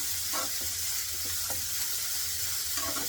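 Sprouted green gram mixture cooks in a pan with a steady, close sizzle and hiss, broken by a few soft scraping stirs, with no one speaking.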